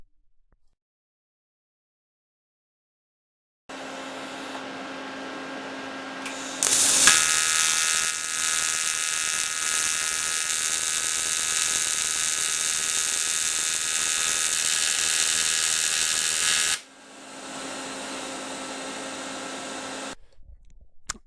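An aluminium motorcycle footrest plate is welded, with a steady electric buzz and hum that swells into a louder, harsher crackling arc for about ten seconds before dropping back to the quieter hum and falling silent.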